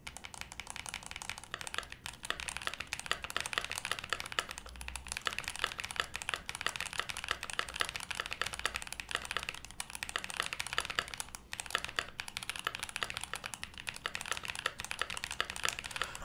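Steady, dense typing on a mechanical keyboard with a plate-mounted PCB, a near, continuous clatter of keystrokes that runs the whole time with no talk.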